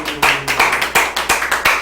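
Loud, close hand claps in a steady rhythm, about seven distinct sharp strikes in under two seconds, with a faint voice in the background.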